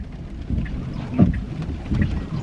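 Steady rain patters on and around a parked Tesla Model 3, a broad close wash of drops with a few heavier thuds, no voices.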